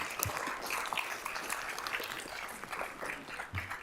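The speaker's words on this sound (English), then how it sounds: "Let's just clap it up before they start that." Applause at a city council work session for a county state championship baseball team, a moderate wash of clapping in a room, somewhat distant and uneven, with no clear talk over it.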